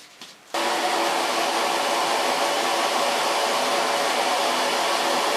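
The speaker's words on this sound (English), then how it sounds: "Protects it from the heat of the blow dryer." A handheld blow dryer roars on abruptly after a brief quiet moment and keeps running as a steady, loud broadband whoosh while drying hair, with no talking.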